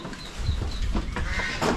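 Farm goats bleating close by, with several short rough calls over a noisy outdoor background and no talking.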